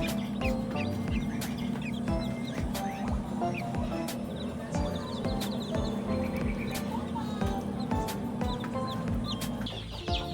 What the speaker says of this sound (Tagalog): yung mga bagong pisa galing sa incubator natin